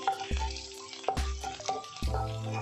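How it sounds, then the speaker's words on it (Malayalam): Chopped ginger and garlic sautéing in a pan for restaurant-style chilli chicken, a steady close sizzle broken by a few soft thumps and scrapes of stirring, with no talking. "ഇഞ്ചി വെളുത്തുള്ളി അരിഞ്ഞതിട്ട് കൊടുക്കാം. നന്നായിട്ടൊന്ന് വഴറ്റാം."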